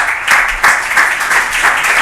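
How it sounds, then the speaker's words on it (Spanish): An audience at an insurance law conference in Peru gives dense, steady applause, close and loud from start to finish, with no voices above it. "Un fuerte aplauso, por favor."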